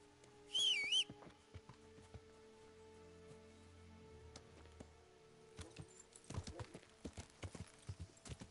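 Horse hooves clip-clopping in Kingdom Come: Deliverance, a quiet, uneven patter of steps that picks up and grows more rhythmic toward the end, after a brief whistle near the start.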